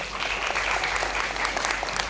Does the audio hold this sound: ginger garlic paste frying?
no